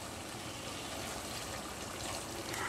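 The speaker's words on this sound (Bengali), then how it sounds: "4 কাপের মতো পানি এখানে অ্যাড করে দিলাম।" About four cups of boiling water poured into a pot of meat for a traditional Bogura alu ghati, a continuous rushing hiss of liquid for a couple of seconds, fairly faint and close.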